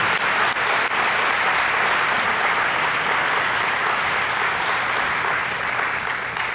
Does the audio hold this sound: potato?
no